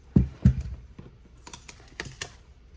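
Craft tape is pulled and torn off for card making: a couple of sharp close snaps, then short crackling rips, all in a quiet room.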